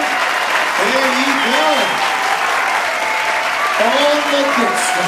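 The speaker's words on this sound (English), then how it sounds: "Good applause." Studio audience applause on a 2011 episode of the game show Who Wants To Be a Millionaire, a steady loud wash of clapping throughout with a voice talking over it at moments.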